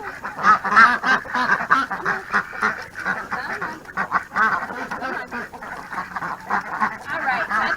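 Ducks quack repeatedly in a paddock fenced with hog panels, their overlapping calls close and busy for several seconds with no clear talk.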